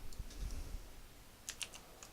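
Typing on a computer keyboard at a desk, a quick run of soft muffled keystrokes followed by a few sharper, brighter clicks, quiet and close with no voices.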